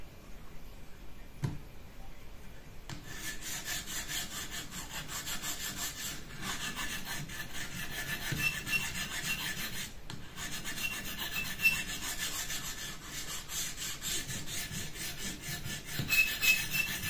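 A scissor blade scrapes back and forth on the abrasive of a TSPROF universal sharpening table, a continuous close rasping with regular strokes and a few brief pauses, fairly loud and with no talk.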